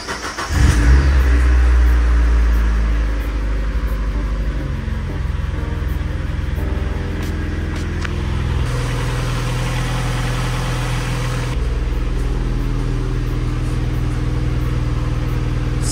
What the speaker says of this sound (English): this is the first startup with the engine flush inside